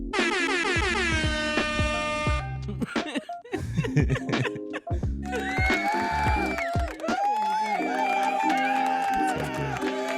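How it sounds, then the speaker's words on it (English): A long air horn blast opens, then a burst of crowd sounds with chuckles, laughter and cheering mixed with clatter, busy and fairly loud throughout. "I appreciate the round of applause."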